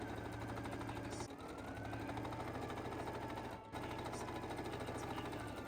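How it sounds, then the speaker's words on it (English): A sewing machine stitches a seam casing for elastic, running at a rapid, even mechanical chatter close by, with two brief pauses before it resumes. "I sew right along the top edge of this seam here to create casing for the elastic to go into"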